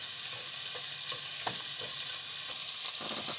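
Shrimp sizzle in butter in a pan, a steady bright frying hiss with a few soft clicks of stirring, close and continuous with no voices.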